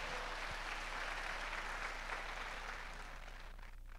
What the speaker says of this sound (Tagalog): Palakpakan natin ng Panginoon.